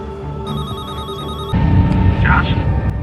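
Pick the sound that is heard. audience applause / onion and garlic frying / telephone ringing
telephone ringing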